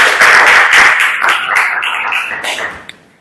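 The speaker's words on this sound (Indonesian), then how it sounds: "tepuk tangan untuk kelompok 3" A classroom group gives applause for a student team after their presentation, a short burst of brisk clapping that tapers off over about three seconds.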